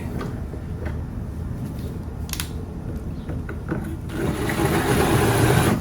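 A power tool runs steadily while cutting into the wooden edge of a door for a latch plate, a loud continuous whir that rises in pitch and intensity toward the end, with no voices.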